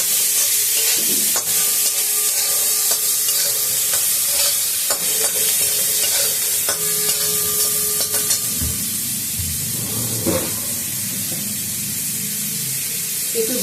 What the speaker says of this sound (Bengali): এবার মশলাটা একটু ভালো করে ভেজে নিয়ে